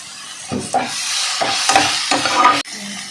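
Tomatoes and mint frying in a pan, heard as a steady close sizzle with a few clatters and stirring scrapes, broken briefly near the end.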